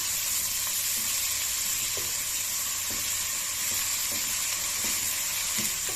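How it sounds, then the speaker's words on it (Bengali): Chopped red amaranth greens stir-fried with already fried potatoes, a dense continuous sizzle with soft regular spatula scrapes about once a second, close and without talk. "শাকগুলো দিয়ে দিয়ে আবার ভালো করে নাড়াচাড়া করে নিতে হবে।"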